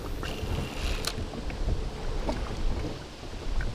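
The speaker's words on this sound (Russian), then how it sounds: "Ох, ветрище, ветродуй." Strong wind buffets the microphone with a steady low roar and gusty rumbles, loud and continuous outdoors near water while spin fishing.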